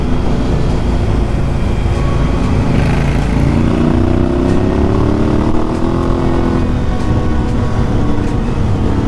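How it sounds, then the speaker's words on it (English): A one-litre Suzuki V-Strom adventure motorcycle pulling away on a cold northwest road ride, its engine a loud, steady, close roar with a faint rising drone beneath heavy wind rush, no voices. "showing the pull-away power of the V-Strommer"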